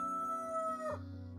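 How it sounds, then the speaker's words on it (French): A rooster crows in one sustained, tonal call that bends downward at the end, fairly close and clear over a steady low background hum. "Le coq va chanter."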